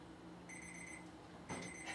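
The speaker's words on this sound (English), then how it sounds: "And set the timer." An oven kitchen timer goes off in a home kitchen, sounding two bursts of high, bright electronic beeps, the second starting about a second after the first.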